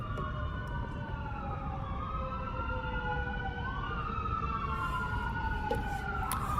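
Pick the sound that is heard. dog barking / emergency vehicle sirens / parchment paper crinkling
emergency vehicle sirens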